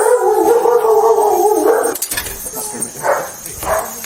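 A German Shepherd barks and howls close and loud, with a sustained howl at first followed by shorter yips and barks, while a person talks.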